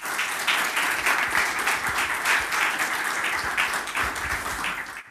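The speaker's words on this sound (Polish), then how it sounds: "zachęcam do tego, żeby go przywitać oklaskami" Sustained applause from an audience at a lecture and debate in Kraków, dense steady clapping filling the room at even loudness throughout.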